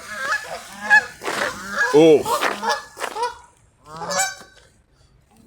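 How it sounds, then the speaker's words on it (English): Loud geese honking nearby in repeated harsh bursts by the Peak Forest Canal at Ashton-under-Lyne, with a brief exclamation from a person partway through. "I apologise on behalf of the geese for interrupting my video there"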